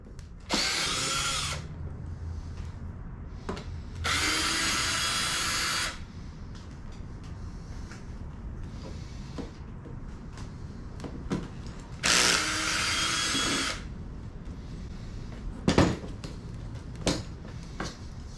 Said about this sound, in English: first we're going to remove 1, 2, 3, 4, 5 bolts.